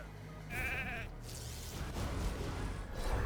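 Sheep bleat in a soccer video game, a single wavering, nasal bleat over a busy game soundscape with crowd noise beneath.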